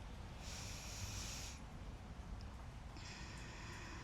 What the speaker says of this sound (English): Nice big cleansing breaths.